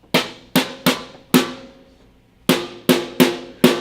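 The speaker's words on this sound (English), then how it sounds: "but the snare sounds like this." Crisp snare drum hits with a bright, noisy crack, eight strikes in an uneven rhythm with a short gap midway, moderately loud and alone.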